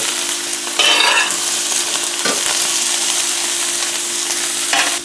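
Onions frying in about a tablespoon of olive oil in a pan give a loud, steady, close sizzle throughout, with a few brief surges of stirring and crackle and no talking.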